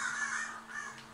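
Crows caw in the horror game Dead by Daylight, giving one loud, close, drawn-out call that fades slightly, with no speech over it.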